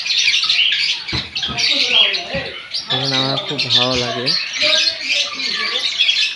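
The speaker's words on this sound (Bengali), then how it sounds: "এখানে দেখেন কত সুন্দর কিচমিচ কিচমিচ করছে পাখিগুলো।" Birds in a park with peacocks and ducks give loud, harsh squawks and chirps close by, repeating in a rapid series while a person speaks.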